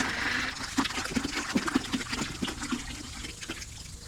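Water pours into a container being filled about halfway for mixing a caustic soda wash solution, a splashing, gurgling stream with bubbly pulses that gradually softens as the level rises.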